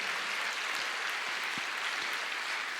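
Steady applause from a church congregation, an even wash of clapping that carries through with no talk over it.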